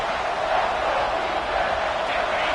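Stadium crowd noise in College Football 26, a steady loud roar of massed voices holding at an even level throughout.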